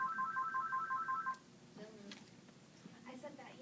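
Electronic telephone ringtone trilling in a steady repeated pattern for about a second and a half during a business meeting, then stopping as people talk and shuffle in the room.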